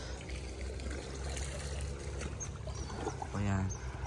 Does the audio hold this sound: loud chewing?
no